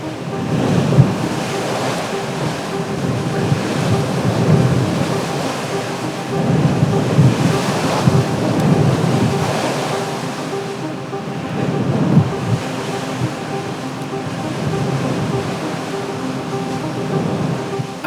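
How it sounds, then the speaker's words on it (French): Storm Ciaran's wind gusts of over 150 km/h roar over a raging sea, with heavy surf crashing in repeated surges, loud and continuous with no voices. "On va avoir des rafales à plus de 150, c'est sûr"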